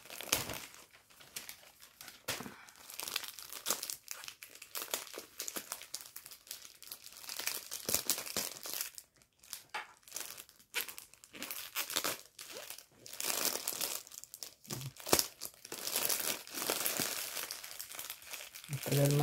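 Tape and wrapping are torn and crumpled off a raffle prize in a long run of crinkling, ripping bursts, with people talking excitedly throughout.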